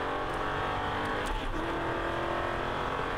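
An Aston Martin V8 Vantage accelerates hard out of a corner on a race track, its engine note steady and loud throughout, with a faint tire hiss and no talking.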